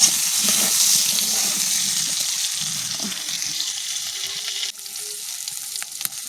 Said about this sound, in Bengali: তো আমগুলো আমি ফার্স্টে ভেজে নিচ্ছি।